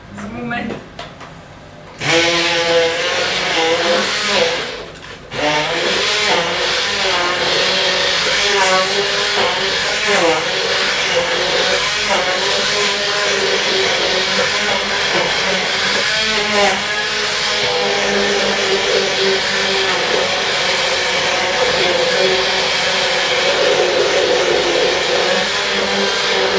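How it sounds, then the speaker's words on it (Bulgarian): Blender whirring steadily as it purées orange juice with a superfood mix, a loud continuous motor drone with shifting pitch that starts abruptly and runs on with a short dip early on. "И ще почна да го пасирам."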